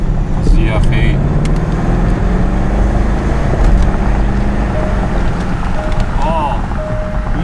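A Range Rover Sport, a rebuilt salvage car, accelerates in dynamic mode, its engine a steady loud drone under heavy road and wind noise, with people talking inside the cabin.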